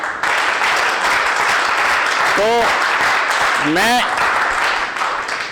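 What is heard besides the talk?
audience applause at addiction recovery program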